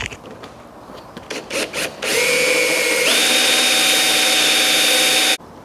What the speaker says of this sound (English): So now it's time to start drilling the holes.